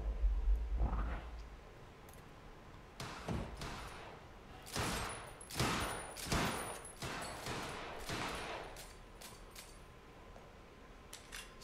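Gunfire in the Quantum Break video game: several sharp bursts of shots crack out in clusters between quieter stretches, moderately distant and without talk.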